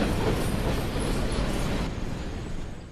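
A train runs along the rail line through ice blocks covering the track, a loud, steady broadband rumble with dense rhythmic rattling of wagons that fades slightly near the end, no voices present.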